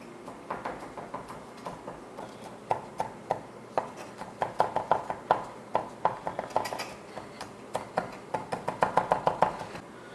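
A knife minces raw garlic on a cutting board in quick, irregular taps that speed into rapid flurries, crisp and close with no talking.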